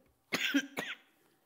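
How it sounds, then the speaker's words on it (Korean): Two sharp coughs in quick succession during an early-morning church sermon, close and fairly quiet, followed by silence. "기침이 많이 나와가지고"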